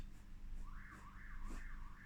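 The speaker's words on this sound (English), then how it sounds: "there's our happy neighbors alarm that goes off whenever it feels like going off at any given time" A neighbour's alarm goes off in a quiet room, a faint, distant warbling siren that rises and falls in repeated sweeps.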